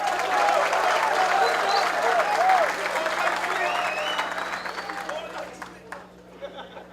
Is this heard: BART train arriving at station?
no